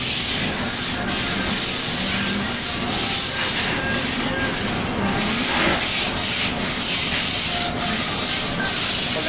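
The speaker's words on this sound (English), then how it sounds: "the tieback that you guys are going to get is going to have a shorter bristle. So it'll be more like the bristle that you have in your hand. So you're actually scrubbing" A short-bristle brush scrubs a surface by hand in rapid, rhythmic rasping strokes, loud and close, continuing without pause.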